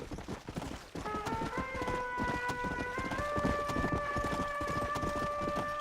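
Horse hooves clip-clop in a brisk, steady rhythm as a horse runs in the zombie-themed western game Red Dead Redemption: Undead Nightmare, under a sustained wailing siren-like tone.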